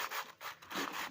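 A part being rubbed back and forth on 220-grit sandpaper laid flat on a marble slab to grind it level, giving steady rasping strokes in repeated rhythmic passes, close and moderately loud.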